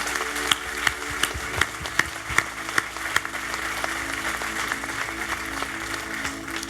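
A church congregation applauds together at a gathering, with steady clapping filling the room and a few sharper claps standing out at an even pace in the opening seconds.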